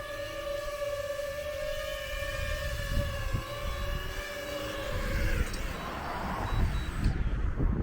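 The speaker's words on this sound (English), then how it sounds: "just quickly before I land it, absolutely amazing little drone" A DJI Mini 2 drone flies in windy conditions before landing; its steady high propeller whine holds several pitched tones, with gusts of wind rumbling underneath.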